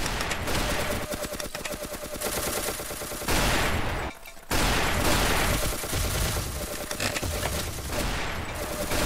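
Video game gunfire from a custom scoped SMG in Build and Shoot, loud continuous rapid bursts that fill the scene, with a brief gap in the middle before the shooting resumes.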